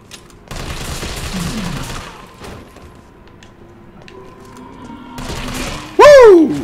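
Gunfire in the Resident Evil 3 video game comes in two loud, rapid bursts of shots separated by a quieter stretch, ending with a sharp cry-like sound.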